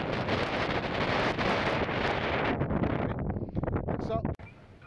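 Strong wind gusts roar and buffet a tent pitched for wild camping on an exposed height, loud, close and continuous, then briefly easing near the end.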